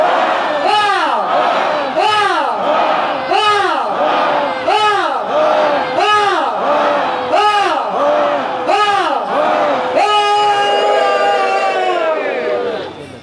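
A church congregation at an evening Rapture celebration service shouts acclamations in loud, rhythmic waves roughly every second, voices rising and falling together, then breaks into a sustained ringing cry near the end.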